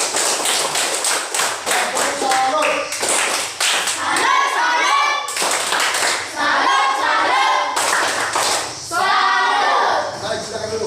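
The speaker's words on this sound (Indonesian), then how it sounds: "Tepuk tangan untuk Justin." Classroom applause as pupils clap together for a classmate, a dense run of hand claps rising and falling in several bursts over about eleven seconds, with children's voices mixed in.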